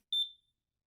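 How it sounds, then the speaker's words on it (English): A newly bought plush toy in a video game gives a single short, high electronic beep, clean and isolated against silence. "Eventually, another beep sounded. It was coming from the newly purchased plush."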